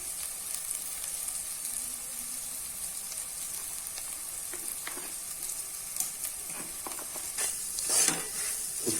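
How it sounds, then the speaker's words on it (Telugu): A ginger, garlic and coconut paste with salt sizzles in hot oil for a fish and tomato curry, a steady crackling fry broken by scraping stirs that grow louder near the end. "ఇప్పుడు ఆ మిక్సర్ని ఫ్రైలో వేసుకుందాం."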